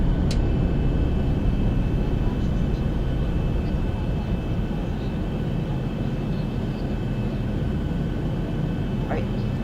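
A Boeing 737-600 lands during a replay in the X-Plane 11 flight simulator, producing a continuous, even roar of jet engine and rushing air at steady loudness from start to finish.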